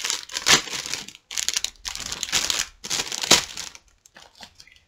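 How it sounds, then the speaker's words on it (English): Plastic packaging around a set of notebooks crinkles and crushes in several loud bursts with brief pauses between, close to the microphone, with no talking. "Sorry for the crinkling, you guys."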